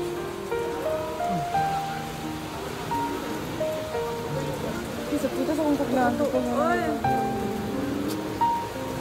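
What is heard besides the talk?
heavy rain during a typhoon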